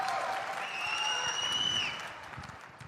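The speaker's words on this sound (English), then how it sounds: "Salman and me are going to clap the loudest when he sings." Applause from an audience at an event with Salman, SRK and Aamir Khan on stage, a dense wash of clapping under a sustained high tone, moderately distant and steady, tapering slightly at the end.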